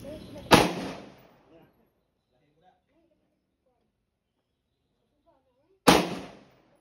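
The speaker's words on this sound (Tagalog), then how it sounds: "If you are ready, shot. Firing!" Gunshots fired at an outdoor firing range: two loud, sharp reports about five seconds apart, each followed by a decaying echo, with quiet between them.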